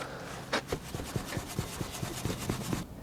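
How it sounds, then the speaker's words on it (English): A short brush scrubs the inside of a car wheel on a Volvo 240 estate during a deep clean, with quick rhythmic bristle strokes repeating at close range over a few seconds and no talking. "Grab yourself some brushes, some of these shorter ones, get in there and just start cleaning the inside of the wheel."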